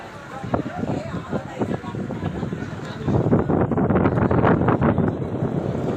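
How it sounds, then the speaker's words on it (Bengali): Cool wind buffets steadily across an open boat deck in the Sundarbans, a low rushing roar that strengthens midway, with people chatting nearby. "খুব সুন্দর হাওয়া দিচ্ছে, ঠান্ডা হাওয়া"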